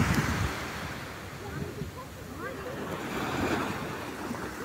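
Sea waves break and wash onto the shore in a continuous surging roar, mixed with gusty wind buffeting the microphone.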